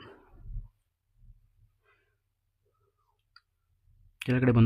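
A few soft taps on a mobile phone screen come while someone types a prompt, separated by quiet pauses, before a voice starts speaking at the end.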